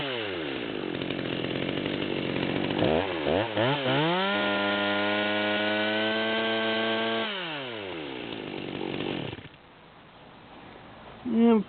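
A Stihl MS200T chainsaw with a 25-inch bar runs close by at high revs. Its whine climbs and holds steady at a higher pitch, then drops back before the end.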